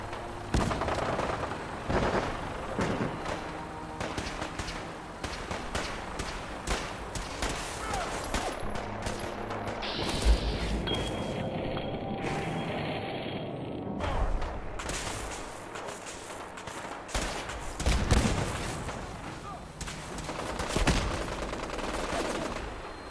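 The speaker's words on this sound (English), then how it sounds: "We go in shooting." A shootout in the video game Fallout 4: repeated bursts of gunfire and rapid volleys, some loud and close, others lighter, with short pauses and a few heavier booms.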